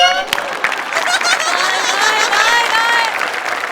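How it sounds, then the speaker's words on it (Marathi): Loud, dense applause from a comedy show audience, with cheering voices and scattered laughter mixed into the clapping throughout. "वा, जोरदार टाळ्या."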